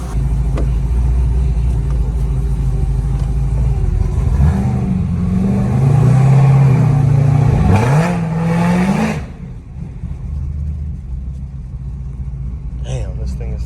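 A supercharged Gen 2 Cadillac CTS-V with a ported blower idles with a deep rumble, then revs up through a rising, wavering roar before settling back to idle, heard nearby from inside the car.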